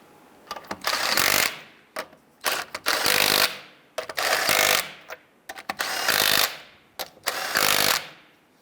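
An impact wrench snugs down the wheel lug nuts on a 1994-2004 Ford Mustang in a series of about five loud, close bursts, each roughly a second long, separated by short pauses.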